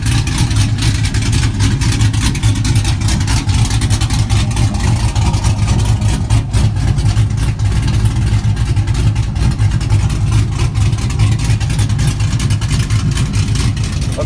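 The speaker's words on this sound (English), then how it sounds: "Just a clean idle clip of the truck in its early stages." Modified truck, known as Clifford, idles just after its first startup, a loud, steady, lumpy low rumble with constant exhaust pulses heard close and alone for the whole stretch.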